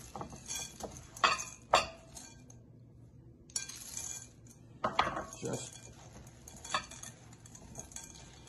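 Chocolate chips being kneaded into cookie dough in a bowl, with soft squishing and scattered clinks and taps of chips and utensils against the bowl, arriving in irregular bursts separated by quiet gaps.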